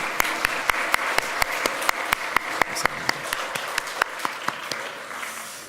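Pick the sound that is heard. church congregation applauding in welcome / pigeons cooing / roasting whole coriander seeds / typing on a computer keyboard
church congregation applauding in welcome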